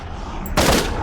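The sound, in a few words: powerful gun shot in wave-based shooter video game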